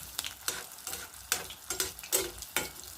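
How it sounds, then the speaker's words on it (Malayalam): Neyyappam fries in hot bubbling oil, crackling and sizzling steadily with regular splashy bursts as oil is ladled over it, close and fairly quiet. "നമ്മൾ ഇതിൻ്റെ നാല് ചുറ്റിനോട്ടും എണ്ണ ഇങ്ങനെ തിളച്ച എണ്ണ ഇങ്ങനെ കോരി ഒഴിച്ചു കൊടുക്കണം"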